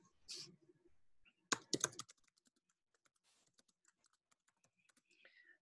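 Keys tapped on a computer keyboard while entering an assignment title in Microsoft Teams: a quick burst of several clicks, then sparse, faint scattered key taps, close and fairly quiet.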